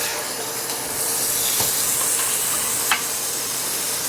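Lean ground beef frying in butter in a pan: a steady, close, hissing sizzle runs throughout, with a single small pop near the end.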